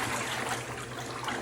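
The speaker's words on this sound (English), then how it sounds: "And now I want to pour inside the pedestal." Antique pearl ceramic glaze pours inside the pedestal of a cake plate, a faint, steady liquid trickle and splash with a low hum in the background.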